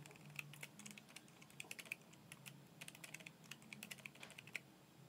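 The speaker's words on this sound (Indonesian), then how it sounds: "Sekarang kita coba tulis melalui keyboard di pesan teks yang ada di handphone kita ini" Typing on a keyboard connected to a phone through an OTG adapter, a steady run of light, rapid key clicks close to the microphone, quiet and alone without talk.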